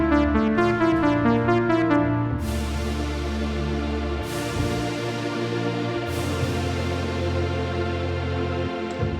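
A Nord Stage 3 keyboard plays a song's chorus, with sustained chords and a steady bass line continuing with no talking.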